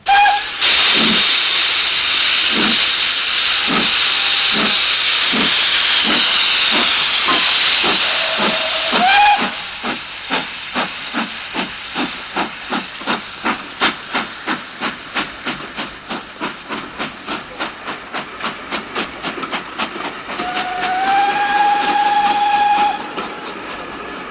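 Steam locomotive starting off with a loud hiss of steam, then chuffing in rhythmic puffs that quicken as it gathers speed. Whistle tones sound at the start and again near the end before the steam dies away.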